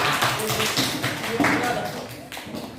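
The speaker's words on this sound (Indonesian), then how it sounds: "Beri tepuk tangan untuk teks eksposisi" Students in a grade 8 class clap for a group's exposition text presentation, a quick patter of many hands at close range, mixed with voices talking throughout.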